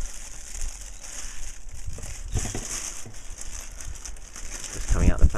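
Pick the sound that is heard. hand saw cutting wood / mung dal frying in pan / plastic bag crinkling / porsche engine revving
plastic bag crinkling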